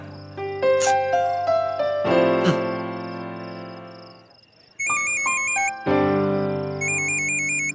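Mobile phone ringtone sounding indoors, a bright electronic melody of repeated high chirping tones that starts after a run of musical notes, loud and close, with no talk over it.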